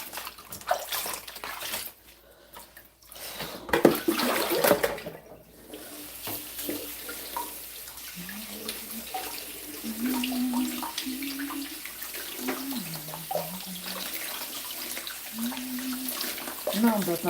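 Kitchen tap water running and splashing while green juice produce is washed, rushing in bursts with brief pauses and gurgling changes in flow, with a voice talking over it.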